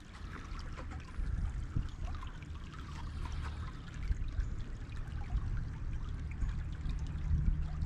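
A creek flows in the middle of Illinois as a continuous trickling, burbling stream, close and fairly loud, with no one speaking.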